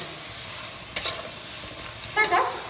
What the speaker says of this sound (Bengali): এই মশলাগুলোকে খুব ভালোভাবে কষিয়ে নেব